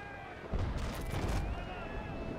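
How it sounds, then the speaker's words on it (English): A ship's portside cannon broadside fires grapeshot in the naval game Naval Action, a quick rumbling volley of booms that rolls on as a low, sustained roar while a voice talks over it. "So we'll probably give her one more shot of grape from the portside broadside"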